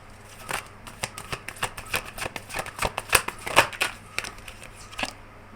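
Tarot cards handled and drawn from a deck, crisp close-up snaps, flicks and slides in quick, irregular bursts with no talk.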